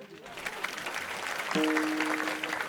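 Applause from the audience at a comic kirtan, a short burst of steady clapping from a crowd filling the space, with a voice speaking over it partway through.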